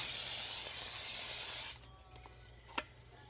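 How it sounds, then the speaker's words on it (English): A cooking spray can hissing into a slow cooker of beef stew meat in one steady close burst lasting under two seconds, then a faint clink of handling. "I should have sprayed it, but I forgot, so it's not going to hurt to spray it now"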